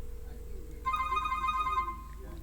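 A telephone ringtone sounds partway through a call, a steady electronic ring that cuts in after a low tone and holds for about a second before fading, with faint background noise.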